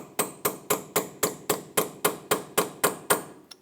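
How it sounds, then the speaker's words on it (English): Eleven sharp metallic hammer blows on a punch against an axle nut of a Honda Accord strike at a steady, even pace, each ringing briefly before the next, close and clear with no talking. "We're going to use a punch or a chisel and a hammer and open it up a little bit."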